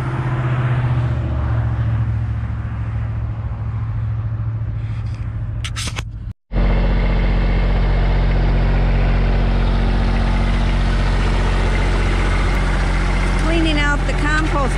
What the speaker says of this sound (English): I hear the tractor, but he's not here yet.